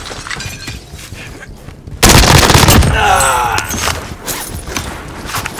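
Gunfire in the battle royale game Warzone on Rebirth Island: distant shots pop in the first seconds, then a loud, close burst of rapid automatic fire erupts and rattles on before tapering into scattered shots.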